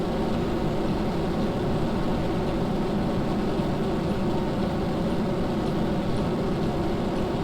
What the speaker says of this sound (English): This engine is extremely loud. This is like obnoxiously loud, this engine.